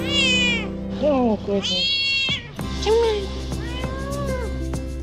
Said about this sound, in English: Today we're looking at 4 little kittens.